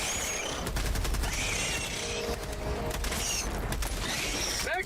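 Video game gunfire, a dense sustained barrage of rapid shots that stays loud and close for nearly the whole stretch, with brief pulsing surges.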